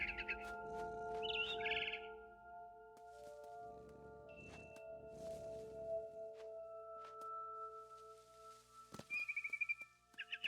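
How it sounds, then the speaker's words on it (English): Short bright chirps from a barn swallow in the video game What Remains of Edith Finch, a few quick bursts early and again near the end, over a soft ambient drone with no talking. "It was a barn swallow going back to her nest."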